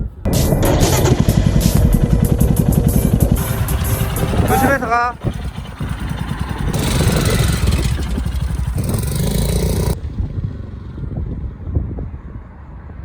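A motorcycle revs loudly and pulls away, its rough engine roar holding strong for several seconds before cutting off into quieter background while people talk over it.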